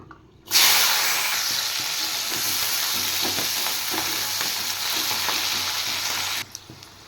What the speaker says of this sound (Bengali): এবার মাছ ভাজার তেলে আমি পেঁয়াজ কলিগুলো ভেজে নেব।